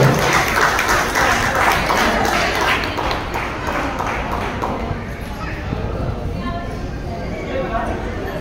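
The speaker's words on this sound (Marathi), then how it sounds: "2 लाख टाळ्या झाल्या पाहिजे." Audience applause at a village association's annual gathering during a felicitation, a dense crowd clapping that is loud at first and gradually thins out.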